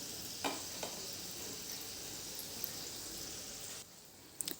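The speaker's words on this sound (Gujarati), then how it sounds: "બંને બાજુ સરસ આપણા ઘૂઘરા તળાઈ ગયા છે." Sweet ghughra, crisp Diwali pastries, fry in oil over a slow flame, giving a soft, steady sizzle throughout with a few light pops and clicks near the end.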